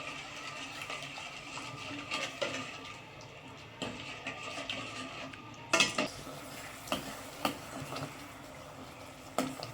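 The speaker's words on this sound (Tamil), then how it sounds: "சக்கரெலாம் கரைஞ்சி நல்லா கொதிக்குது." Sugar syrup with crushed cardamom bubbles and simmers in a pan, with scattered clinks of a spoon or utensil against metal, close by, no talking.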